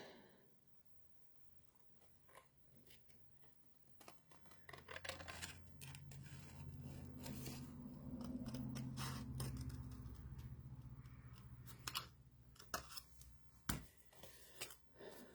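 Big scissors cut through paper during scrapbook and card making, giving close, quiet snips and crisp rustling slices in an irregular run, with softer paper rubbing between the cuts.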